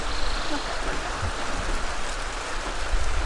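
Steady rain falls as a storm closes in, a dense, even hiss of drops spread across the whole clip with no voices.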